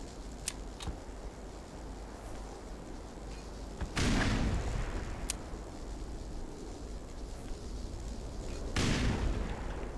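Two heavy blasts from grenades in the video game Black Mesa boom out a few seconds apart over steady in-game ambient noise, with sharp clicks scattered around them.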